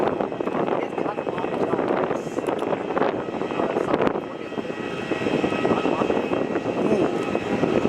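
Airliners at Melbourne Airport, a Dash 8 turboprop and a Boeing 737, produce a steady, fairly loud engine roar with wind buffeting the microphone, while a person talks over it.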